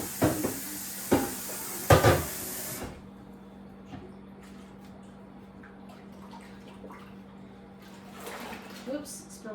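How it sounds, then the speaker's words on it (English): Water gushes loudly for a few seconds to fill and rinse soap residue out of a container, then cuts off, leaving quiet handling clinks and faint drips. "I'm gonna fill this up to get off all that soap residue and rinse it out"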